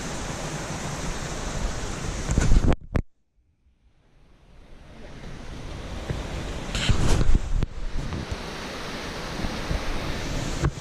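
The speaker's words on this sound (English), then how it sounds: "you can hear the rush of the water at a little viewing area now of Phantom Falls" The rushing water of Phantom Falls, a waterfall near Marysville, pours as a loud broadband roar. It fades out briefly and then swells back up as the viewing area is reached, with no voices.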